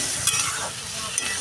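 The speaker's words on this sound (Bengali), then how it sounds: "মশলাটা দিয়ে একটু কষতে হবে।" Short, quiet sizzle of spices being stir-fried with aubergine and potato in a pan over a high gas flame, a soft continuous fry with a couple of brief stirring scrapes.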